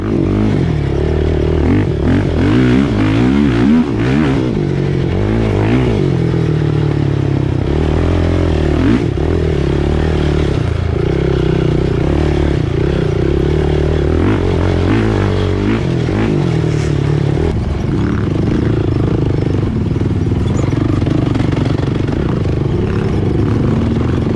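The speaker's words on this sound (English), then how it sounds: "I was behind Andrew, just freaking rev bombing him." ATV engines in a service-class cross-country race at Dirt Inc. in Lincoln, Michigan rev hard and steadily throughout, loud and close, with clattering and scraping mixed in.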